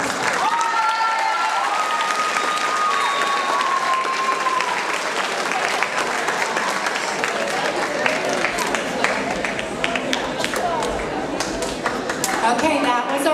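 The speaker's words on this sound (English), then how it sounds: "A big round of applause for our Titans." A school audience at a middle school academic awards ceremony breaks into sustained applause, loud dense clapping with crowd noise and scattered voices mixed in, some cheering audible early on.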